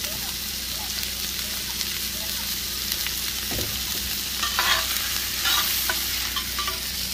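Onion frying in a Dutch oven at an outdoor camp cookout, a steady hiss of sizzling with occasional stirring scrapes, and people talking faintly in the background.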